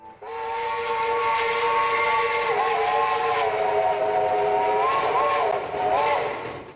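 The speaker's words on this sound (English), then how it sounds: "the whistle blows" A steam locomotive whistle on the Western Maryland Scenic Railroad blows one long, loud, sustained chord for several seconds, with a few brief pitch dips near the end over a steady hiss of steam.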